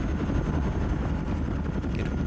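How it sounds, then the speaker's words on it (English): A military helicopter sets down in the Vietnam-era strategy game Squad Battles Tour of Duty, a steady, loud rotor and engine rumble that runs unbroken throughout. "This chopper is going to be landing here."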